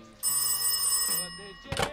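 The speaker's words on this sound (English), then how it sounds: "Good God, that ringer's loud." A loud telephone ringer sounds close by in one sustained burst of bright metallic ringing, then cuts off, followed by a brief clatter.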